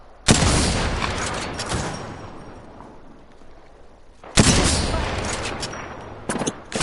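An attacking squad opens fire in a shooter video game, with two loud bursts of rapid gunfire up close separated by a quieter stretch, then a short final volley.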